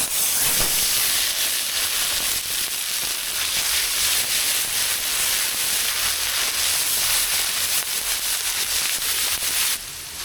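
Onion and garlic paste hits hot oil in a wok, giving a loud, even hiss and sizzle that runs steadily for several seconds, close up with no talking.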